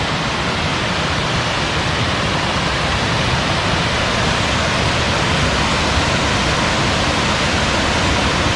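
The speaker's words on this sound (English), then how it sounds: "This is Choke Creek Falls." Choke Creek Falls pours in a steady, full-bodied roar of rushing water, close and loud throughout with no letup or voices.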